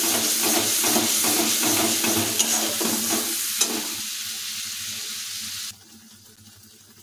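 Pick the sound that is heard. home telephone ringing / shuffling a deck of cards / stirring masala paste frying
stirring masala paste frying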